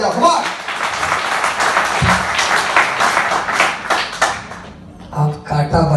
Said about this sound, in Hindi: तालियां आ रही है इधर से